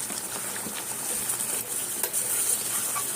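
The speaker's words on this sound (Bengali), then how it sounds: "কাজু আছে তো, এই জন্য একটু নাড়িয়ে দিতে হবে।" Chicken with cashews is stirred in a covered pan, with a soft steady sizzle and faint scraping and bubbling throughout, close and alone with no talk.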